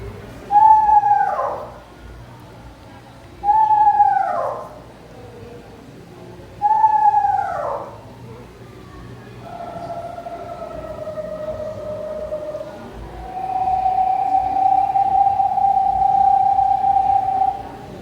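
A gray phase eastern screech owl gives three separate descending whinnying trills, each one wavering, followed by longer steady monotone trills. The calls are loud and close, with no talk over them.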